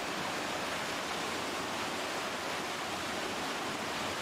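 River rapids at Rifle Chute roar as a constant, dense rush of turbulent whitewater, steady and moderately loud with no voices.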